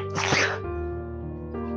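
One person sneezes once, close and loud, a sharp burst followed by a short trailing breathy tone, with no talk during it.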